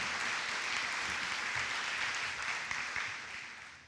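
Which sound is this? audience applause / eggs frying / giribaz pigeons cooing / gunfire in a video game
audience applause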